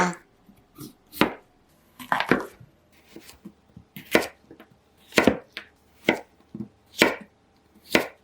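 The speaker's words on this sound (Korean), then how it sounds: "브로콜리 줄기도 손질해 주시고요" Knife chopping broccoli stems on a cutting board, about a dozen crisp, separate thuds at an uneven pace, close up with quiet gaps between cuts.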